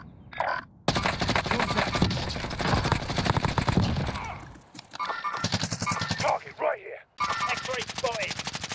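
Dense automatic gunfire in the Warzone battle royale game, long sustained bursts with short pauses and a final stretch of rapid fire, loud and close, with voices talking over parts of it.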